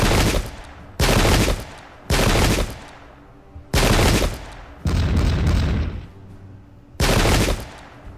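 Musket and cannon fire in the Pike and Shot strategy game arrives as five loud, dense bursts of crackling volleys with heavy low rumble, separated by short gaps of fading echo.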